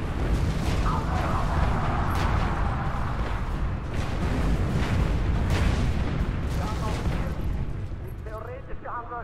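Mortar fire in War Mongrels, a World War II stealth tactics game, with heavy booms and explosive rumble running steadily throughout, loud and close.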